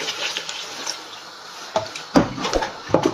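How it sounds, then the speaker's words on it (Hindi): Hot water poured into a pot of mutton paya gravy, a soft splashing trickle with a few sharper liquid sloshes and clinks toward the end, close by and fairly quiet. "और साथ थोड़ा सा हम पानी डालेंगे, ये गर्म पानी है"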